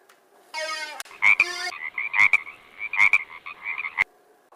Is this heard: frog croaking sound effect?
yes